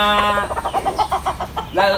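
A rooster, molting, clucks in a quick run of short calls, close by in a backyard, ending with a louder drawn-out cry.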